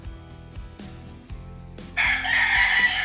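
A rooster crows once, loud and close, in the second half, preceded by quieter low murmuring sounds.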